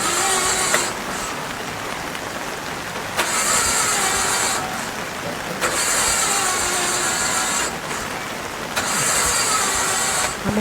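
Auto rickshaw engine running close by during rain, a steady mechanical drone with several revving surges and brief drops in level, no talk over it.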